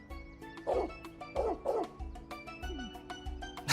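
A dog barks repeatedly in the video game Trails Beyond the Horizon, several yips spaced through the scene over quiet background music, with a whimpering tone in places.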